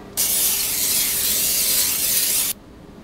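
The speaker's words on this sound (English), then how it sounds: "I'm going to spray down my baking pan with some olive oil spray" Olive oil cooking spray hisses onto a baking pan in one steady burst lasting a little over two seconds, close and loud, with no talking.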